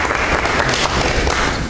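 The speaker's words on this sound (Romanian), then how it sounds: "Puteți să-l și aplaudați, vă rog frumos" Applause at a council meeting, a dense burst of clapping from a room of people, loud and steady for a short stretch.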